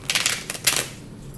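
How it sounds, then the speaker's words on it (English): A deck of tarot cards being shuffled: a short, close flurry of crisp riffling clicks and flutters, two quick bursts lasting under a second, then quiet. "One more shuffle."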